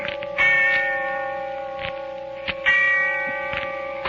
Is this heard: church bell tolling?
yes